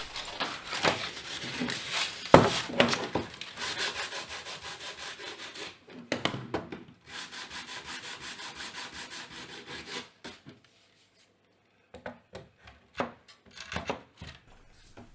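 Wood being sanded with 150-grit sandpaper: close, rhythmic scratchy strokes in long runs, broken by a few short pauses and quieter passes near the end.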